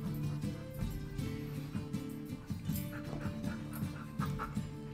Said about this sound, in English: I now have a dog attacking my hand